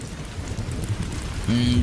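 Rain patters steadily in a dense wash, and near the end a voice starts speaking over the downpour.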